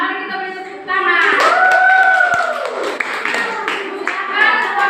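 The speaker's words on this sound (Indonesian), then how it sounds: "Mari kita beri tepuk tangan." Children in a classroom clap their hands, a quick scattered clatter mixed with loud, high-pitched chanting voices close by.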